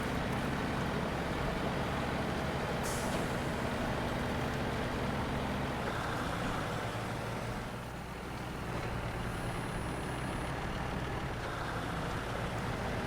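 The Paystar truck engine in SnowRunner drones as a dense, steady low rumble, with a faint whine toward the end and no talk.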